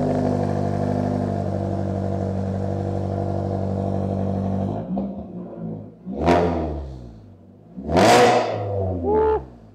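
A car engine with freshly welded exhaust tips runs at a steady, loud drone for several seconds, then gives a few separate, rising revs near the microphone, with no talking.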